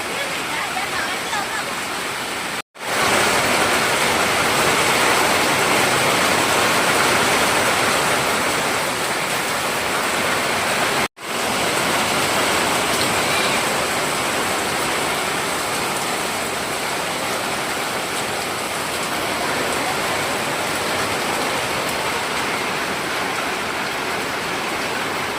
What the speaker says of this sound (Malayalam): നല്ല വെയിലും നല്ല മഴയും.